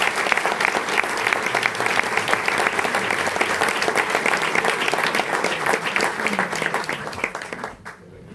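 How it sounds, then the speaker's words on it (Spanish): Audience applause at a book presentation, dense steady clapping from a crowd that holds for about seven seconds before cutting off abruptly near the end. "Un aplauso para Manuel."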